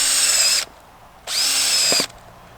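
A power drill fitted with an auger bit for planting garlic whirs in two loud bursts of high-pitched motor whine, separated by a brief pause.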